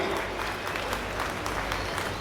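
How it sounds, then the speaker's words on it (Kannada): An audience claps in welcome for President Droupadi Murmu at a jubilee celebration, a dense, steady ovation of many hands heard at moderate distance with faint murmurs underneath. "ಎಲ್ಲರೂ ಚಪ್ಪಾಳೆ ತಟ್ಟಿ ಅವರನ್ನು ಸ್ವಾಗತಿಸಬೇಕಾಗಿ ಪ್ರಾರ್ಥನೆ"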